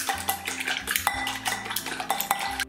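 Eggs and salt being beaten in a bowl, with a utensil clinking and scraping against the sides in quick, uneven strokes, close and moderately quiet, without talk.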